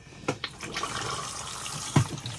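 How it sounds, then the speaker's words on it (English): A Thetford toilet in a Carado A464 motorhome gives a fresh water flush from the main tank, a steady close rush of running water with a couple of small knocks and gurgles. "press the blue button here, which gives you a fresh water flush from your main freshwater tank"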